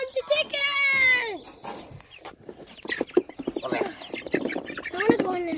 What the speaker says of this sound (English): Out comes the chicken!